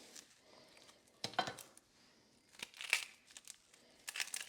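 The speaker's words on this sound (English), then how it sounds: "I'm gonna peel this onion." A whole onion being peeled by hand in a home kitchen, its dry papery skin crackling and tearing in several short, close bursts between quiet pauses.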